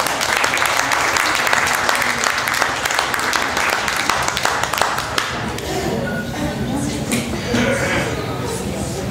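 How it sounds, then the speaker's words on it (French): Concert audience in Marseille breaks into loud sustained applause welcoming a blues singer to the stage, dense clapping that thins into lighter claps and murmurs toward the end. "Mesdames, messieurs, je vous demande d'applaudir Annie Labattu."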